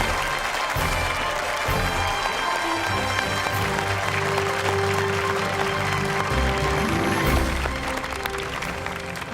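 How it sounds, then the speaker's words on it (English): Audience applause for the winner of a televised children's quiz competition, sustained clapping from a studio crowd that stays loud throughout, with music playing underneath. "let's have a huge round of applause for our 2019 Child Genius winner, Mahesh."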